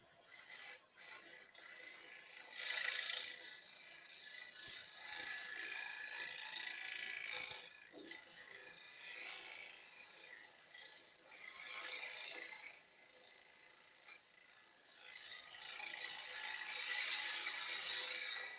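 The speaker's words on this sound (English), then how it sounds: "So let's go ahead and do some negative rake scraping." Negative rake scraping on blonde wood spinning on a woodturning lathe, a steady raspy scraping hiss that runs almost continuously at close range, with brief dips and surges as the tool is pressed and eased.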